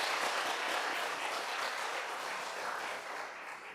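Church congregation applauding during a Sunday worship service, a dense, steady wash of many hands clapping together that fills the room, holding strong before easing off slightly near the end.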